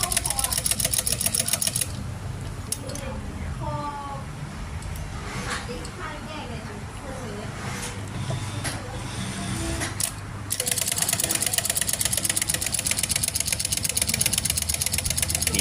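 A sewing machine zigzag stitching a buttonhole placket gives fast, even mechanical ticking in a loud run, stops while someone talks, then starts stitching again close up.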